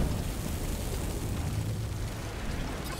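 A Gjallarhorn rocket launcher blast in a video game, heard as a loud, continuous roaring explosion rumble that holds steady for the whole stretch without any speech.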